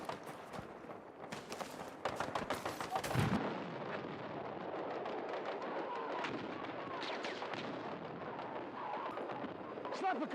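Gunfire in a sniper-rifle combat video game, with sharp bursts of shots early on and a sustained rumble of distant firing and battle noise behind it.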